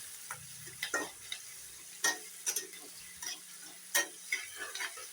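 Onions frying in a pan for chhatu masala give a faint, low sizzle, broken by scattered scrapes and clicks of stirring at an uneven pace.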